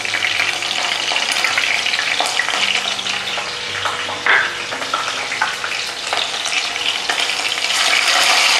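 Ginger garlic paste sizzling in hot oil with green chillies for a chicken keema gravy, a steady loud frying hiss with occasional stirring clinks and scrapes.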